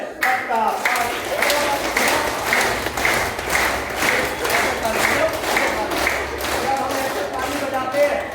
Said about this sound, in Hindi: ताली आप ऐसे बजाया करो